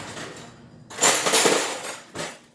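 A spatula scrapes canned, undrained white corn from the can into a soup pot, with two bursts of wet scraping, the first longer and louder, the second brief, close by and without talk.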